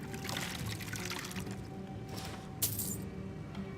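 Water pours faintly into a drink inside the game Skyrim, a soft trickle over quiet background ambience, with a brief brighter splash toward the end.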